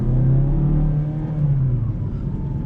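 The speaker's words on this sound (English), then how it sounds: "We're gonna give it a little bit of gas." A 2016 Mazda 3 Touring's engine hums loudly and climbs slightly in pitch as it's given some throttle, a brief, close rev with a rumbling low end.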